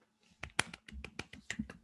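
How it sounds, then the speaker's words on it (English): A person claps their hands in an odd, uneven way: a run of sharp, close slaps with irregular spacing and varying loudness, with no other sound around them. "I just clapped really weird"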